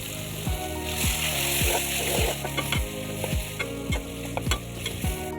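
Mashed yardlong beans go into a pan of browned, frying onions, producing a steady close sizzle broken by repeated scraping stirs of the spoon and no talk.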